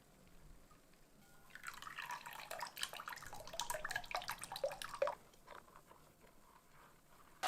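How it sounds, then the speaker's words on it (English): A blended drink mixture being strained, with quiet, rapid dripping and trickling liquid building for several seconds, then thinning to scattered drops. "So just pour your ingredients and strain."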